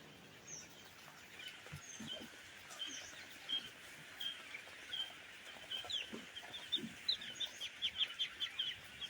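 Quail birds on a poultry farm give faint, rapid chirping calls that grow denser and more regular toward the end, over a quiet background.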